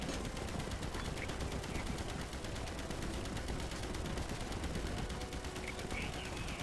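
Rapid machine gun fire in the Easy Red 2 World War II game during an assault on old German positions near Stalingrad, a dense, continuous rattle of shots with distant battle noise, steady and loud throughout.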